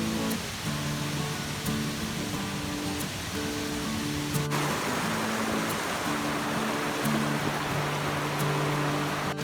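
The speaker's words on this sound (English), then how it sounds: "Look at that breeze that waterfall is creating." Waterfall at Ricketts Glen State Park in Pennsylvania, a steady broadband rush of falling water that holds loud and constant throughout, with no voices.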